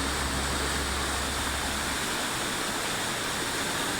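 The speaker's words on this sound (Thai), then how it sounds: "นี่คือน้ำตกห้วยจันนะครับ" Huai Chan waterfall in Khun Han, Sisaket, Thailand, pours as a steady broadband rush of falling water, constant and fairly loud, with no voices over it.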